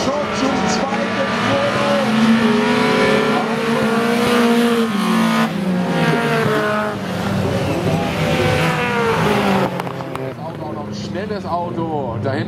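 Race cars of an autocross class at the NAX-CUP in Mölln roar through a heat, engines revving and tires squealing near and loud, while a German commentator talks continuously over them.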